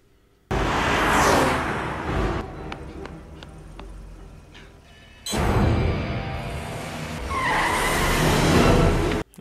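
A car is driven off with tires skidding in the 1997 film I Know What You Did Last Summer: two loud, harsh bursts of tire squeal and revving engine, separated by a quieter stretch with faint clicks.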